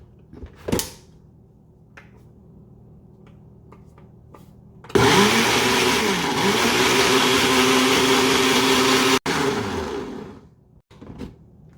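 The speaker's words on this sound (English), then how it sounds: "Let's blend this up." Aloe vera gel and lemon juice whir in a blender: a few quiet clicks and knocks, then a loud, steady motor roar for about four seconds that cuts off abruptly, followed by faint handling taps.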